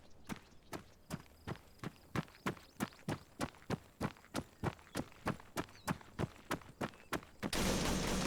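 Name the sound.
gunfire in a video game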